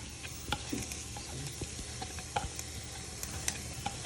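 Peppers, onion, red onion and garlic frying in a pan while stirred with a wooden spoon, a soft steady sizzle broken by light clicks and taps of the spoon, fairly quiet and with no voices.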